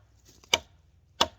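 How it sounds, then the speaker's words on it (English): Lightweight Bowie survival knife chopping into dead standing aspen wood, two sharp, isolated woody impacts about two-thirds of a second apart, close and clear against near silence. "this was a dead standing aspen that I'm chopping on"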